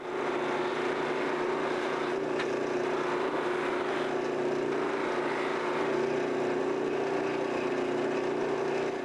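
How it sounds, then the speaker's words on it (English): A buffing wheel polishes a plastic guitar pickguard held against it on a piece of plywood, giving a loud, steady motor whir with a constant hum and broadband hiss that runs unbroken for the whole stretch, with no talking. "That allows me to come in and use it on the buffing wheel without worrying about getting my fingers."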